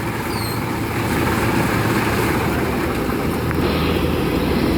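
A Kubota DC 120 combine harvester with a three-metre header runs steadily while harvesting rice in a paddy, giving a loud, continuous engine and machinery drone with no talk.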